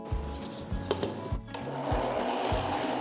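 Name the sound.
mixer grinder grinding rice, salt and wheat flour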